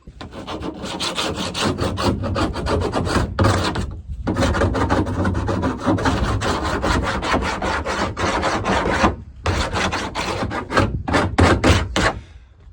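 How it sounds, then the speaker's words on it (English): A metal file scrapes back and forth along the cut plastic edge of an IBC tote to remove the burr, giving fast, loud, rhythmic rasping strokes up close with a few brief pauses. "I'm just taking the burr off of this cut I made in the bottom half, well, bottom 3/4 of an ICB tote"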